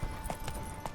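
Roach the horse's hooves clip-clopping in The Witcher 3, a few quiet, evenly spaced hoof falls on hard ground at moderate distance.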